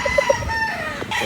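A Lemon Dome line gamefowl rooster gives a short, close call, a few quick clucking notes sliding into a brief crow-like cry, with no talking.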